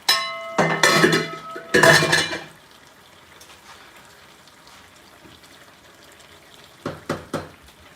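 A metal utensil scrapes and clinks against a pan to gather the last of a Liberian cassava leaf sauce, two loud clattering bursts at the start, then quiet, then a few softer scrapes near the end.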